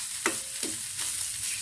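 Boiled pork sautéing in a pan, with a steady sizzle and a few sharp stirring scrapes spaced through it, close and fairly loud with no talking.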